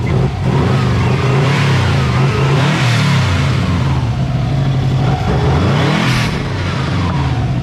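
A Caterpillar diesel engine with a turbo, already warmed up and revving hard, a loud, continuous close-up roar that stays heavy and steady with slight swells in pitch across several seconds.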